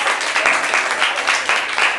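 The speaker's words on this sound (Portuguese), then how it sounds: "Recebam a serva do Senhor com as palmas para Jesus." A Pentecostal church congregation claps together in praise, a loud fairly rhythmic round of palms repeating in steady pulses throughout the short burst.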